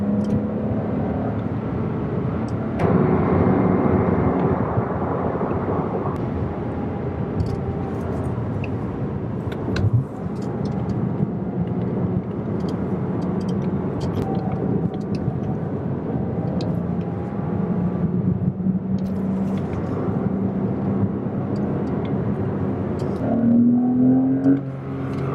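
A Porsche 987 Boxster drives along a road, its engine and road noise making a continuous interior drone that swells slightly as it accelerates.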